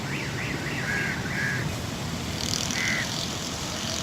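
Factory-fitted car alarm on a 2005 Toyota Hilux Vigo pickup with a 4000 cc turbo engine chirps in short repeated electronic warbles, moderately loud over a broad hiss of outdoor background noise.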